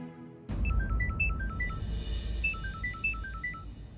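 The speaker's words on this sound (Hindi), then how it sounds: "आपका फोन बज रहा है।" A mobile phone ringtone in a Hindi TV serial bursts in abruptly, playing a bright repeating electronic melody twice over a dense background hum, with no one talking.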